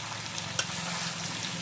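Salted water boils in a pot on a home kitchen stove before rice goes in, a steady close bubbling hiss with one brief sharp click partway through and no talking.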